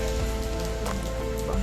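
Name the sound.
heavy rain falling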